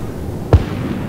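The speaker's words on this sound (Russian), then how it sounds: "вот там левее и дальше что-то взорвалось, ракета куда-то пошла" Distant explosion in the military shooter Arma 3 during a helicopter battle, a single short muffled boom rising briefly above low background noise.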